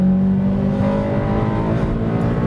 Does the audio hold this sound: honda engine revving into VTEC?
yes